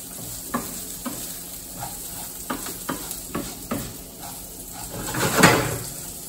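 Rice frying in a pan for orange-style rice, stirred with repeated scraping strokes over a steady close sizzle, swelling into a louder burst near the end.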